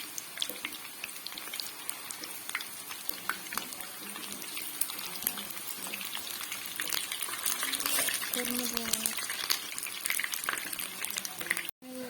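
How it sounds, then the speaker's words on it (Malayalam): Egg-and-bread snack frying in hot oil, a steady bubbling sizzle that runs the full length and grows slightly louder toward the end, with occasional pops and a brief clatter near the finish. "മറിച്ചും തിരിച്ചിട്ട് നമുക്ക് ഇതൊന്ന് ഫ്രൈ ചെയ്ത് കുക്ക് ചെയ്തെടുക്കാം"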